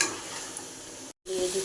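Vegetables sautéed in a pan for a fish curry with eggplant and potato, a close steady sizzle with stirring, briefly cut by a short gap, then a faint clink.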